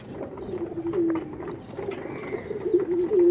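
Tournament-bred pigeons, including Dragon Face young, cooing in soft repeated throaty calls close by, with faint mechanical clicks and rustling in the background.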